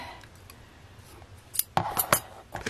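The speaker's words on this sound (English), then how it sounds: "Now I'm going to cut the ribbon. I'm going to cut it really long." Scissors snip through a long craft ribbon, a few quick sharp metallic cuts clustered together after a quiet start, close and crisp.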